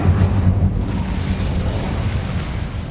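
An Incendio fire spell bursts in Hogwarts Legacy, a steady roaring whoosh of flame that stays loud and broad for a few seconds without clear breaks or voices.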